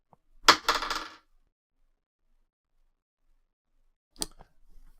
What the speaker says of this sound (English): Let's roll the dice and see how well I do.